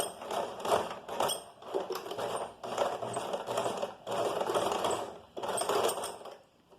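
A sewing machine runs in short bursts while stitching a fabric notebook project, reversing briefly for a backstitch; the close mechanical whirring stops and restarts several times with brief pauses between runs.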